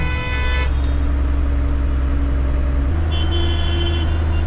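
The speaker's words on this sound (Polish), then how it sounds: "Potężne fanfary!" Loud air horns blare in sustained tones over idling tractor engines at a farmers' protest, with a New Holland tractor among them; one long horn blast gives way to another pitched chord.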